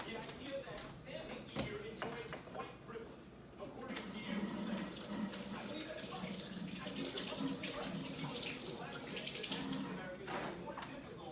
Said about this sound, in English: I'm gonna go over and I'm gonna wash my hands